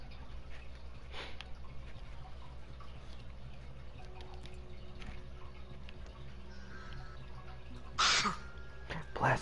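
A single sharp sneeze breaks through quiet background hum and faint game sounds, short and fairly close, with another small sound earlier.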